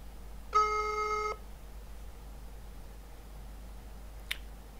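A single telephone ringing tone sounds once, a steady buzzing tone lasting under a second, followed by quiet and a faint click.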